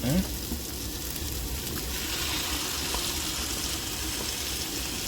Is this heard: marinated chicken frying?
yes